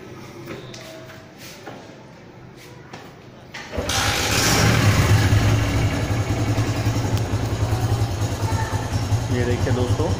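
A motorcycle engine fitted with a capacitor for a battery fault starts partway through and settles into a loud, steady idle close by, after a quieter stretch of handling noises.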